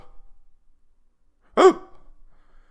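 A person imitates a hiccup with their voice: a single short, sharp gulping hiccup sound, close and clear, after a stretch of near silence.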